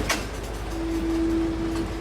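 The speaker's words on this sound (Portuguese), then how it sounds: "1, 2, 3, 4, 6 locomotivas para puxar os vagões do trem" A freight train hauled by six locomotives rumbles past pulling its wagons, a steady low mechanical roar with a sustained tonal whine partway through, nearby and continuous with no voices.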